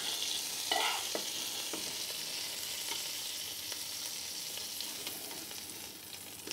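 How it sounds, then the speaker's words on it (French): Shrimp searing in a hot frying pan, giving a soft, continuous hiss and sizzle with a few faint crackles, heard up close and alone. "On vient vraiment colorer toutes les faces de la crevette."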